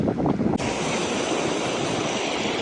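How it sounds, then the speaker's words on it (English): Ocean water surging back and forth along the shore at Kauai, Hawaii, a loud continuous rushing wash with some wind buffeting on the microphone at the start. "It was cool with this water coming back and forth feeding into the ocean"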